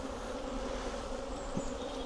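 Honey bees buzz steadily in a swarm around a beekeeper in a bee suit, a dense continuous drone close to the ear with no talk.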